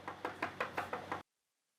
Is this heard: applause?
no